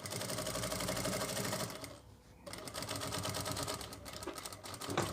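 A sewing machine runs steadily, stitching a ready-to-wear belt saree up to the elastic, with a brief pause near the middle before the whirring motor and needle chatter resume.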